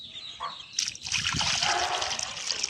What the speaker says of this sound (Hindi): बोर का ताज़ा पानी दोस्तों इसमें मैं डाल रहा हूँ।